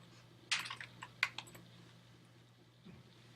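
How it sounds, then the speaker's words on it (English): Short bursts of quick clicking keystrokes on a computer keyboard, a few rapid taps close by and faint, then a pause with one last soft tap, with no talk. "I can type in someone's name here"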